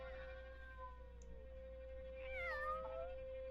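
A cat in the Care Bears Adventure in Wonderland animated film gives a single drawn-out, wavering meow, clear and fairly close over a steady musical hum.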